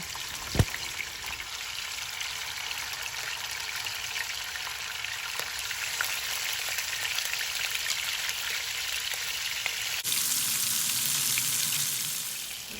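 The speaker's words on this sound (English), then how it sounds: "I'm going to fry them just like about a minute on each side" Grey snapper fries in hot oil in a pot, giving a close, continuous crackling sizzle with one sharp pop near the start and a brighter, louder surge of sizzling toward the end; no talking.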